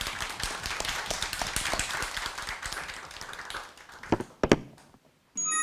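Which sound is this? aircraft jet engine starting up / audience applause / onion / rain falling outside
audience applause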